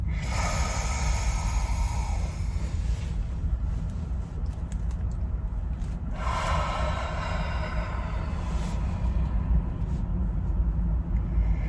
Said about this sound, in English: let's go ahead and smell what you smell and make this your biggest breath ever